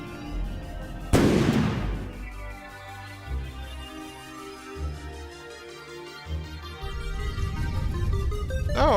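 Flak shells burst in a From the Depths-style naval combat game, set off by simple autocannons: one loud, sharp blast near the start, then a steady bed of sustained tonal game sound with softer thumps.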